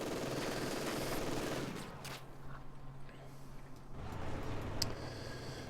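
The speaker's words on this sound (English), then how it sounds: "this German HMG in here is doing a really good job of defending this area" A German HMG machine gun in Company of Heroes 2 fires sustained rattling bursts at mid distance within a dense game battle mix, easing off midway and then picking up again.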